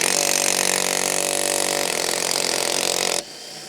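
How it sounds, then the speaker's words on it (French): A pneumatic impact wrench loosens cylinder head bolts on a Rover K-series engine, a loud, continuous buzzing hammer-whir held for about three seconds before cutting off abruptly, close by with no talk. "J'ai jamais enlevé des vis de culasse à la péteuse."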